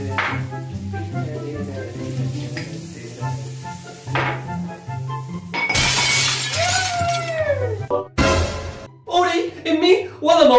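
A drinking glass dropped in a home shatters with a loud crash and a spray of tinkling shards. Several people talk before it breaks, and excited voices follow right after.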